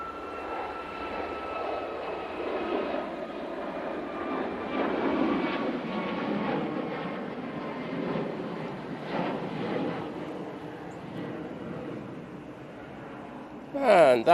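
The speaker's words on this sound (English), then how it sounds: "And that is off to Malaga. Ryanair 737 MAX 8." A Ryanair Boeing 737 MAX 8 takes off from Manchester Airport bound for Malaga, its engine roar swelling to a broad peak midway and then fading into the distance, with a voice talking over it.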